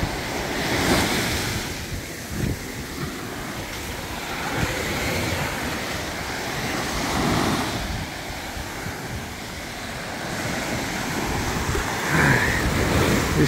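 Ocean surf rolls in steadily at Fort Pickens Beach in Pensacola, Florida, a continuous broad wash of breaking waves with gusts of wind buffeting the microphone and no voices.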